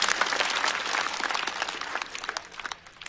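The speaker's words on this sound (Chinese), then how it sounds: "再次掌声送给步惊云。" Audience applause at a Chinese stand-up comedy show: dense, sustained clapping from a full crowd that swells at the start and thins gradually toward the end.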